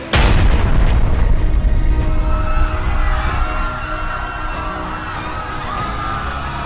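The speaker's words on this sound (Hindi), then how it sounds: "मस्जिद के पास खड़ी मोटरसाइकिल में भीषण धमाका हुआ" A powerful bomb hidden in a motorcycle parked near a mosque detonates in one loud, sharp boom, followed by a long rumbling roar that slowly fades into a steady background din.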